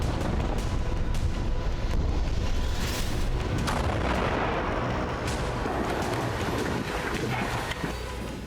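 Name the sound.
tank shelling in the streets of Khan Younis, Gaza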